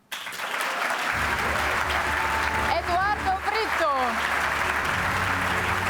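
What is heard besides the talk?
applause for the essay competition finalists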